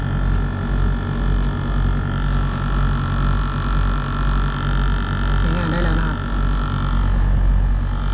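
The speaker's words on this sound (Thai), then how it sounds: "นี่นะครับ เสียงจริง ๆ มันต้องเป็นแบบนี้นะ เสียงคอมเพรสเซอร์นะครับ" Mitsubishi air conditioner compressor running after a repair for a failed run capacitor, a steady low mechanical hum with droning tones, continuous and close, while a voice talks briefly over it.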